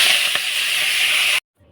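Close, loud hiss of spinach dropped into hot oil tempered with dried red chili and five-spice seeds, a steady sizzle that cuts off abruptly, followed by a faint quieter sizzle.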